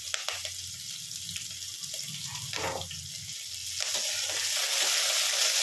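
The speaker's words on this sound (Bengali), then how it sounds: "অল্প একটু রসুন, রসুন তো সবসময় ঘরে থাকে, কাঁচা লঙ্কা একটু ফোড়নে দিলাম" Chopped garlic and green chili sizzling in a little hot oil, a steady crackling hiss that swells and brightens toward the end, with a few soft stirring knocks and no talk.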